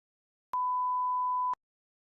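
A single clean electronic beep, a steady mid-pitched tone lasting about one second with sharp onset and cutoff, marking the start of a timed TOEFL speaking response; silence before and after.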